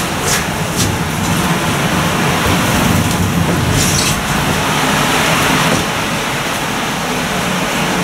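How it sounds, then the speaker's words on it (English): Ice-cold rain pours outside a municipal parking garage in Huntington, West Virginia, making a loud, dense, steady roar with a few brief splashy bursts over its even wash. "this rain is like ice cold"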